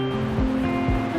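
A full mountain river swollen by rain and snowmelt rushes through giant trees, a constant broadband roar of water close by, with low rhythmic thumps underneath.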